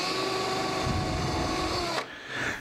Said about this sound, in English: Drill it with your 5/64.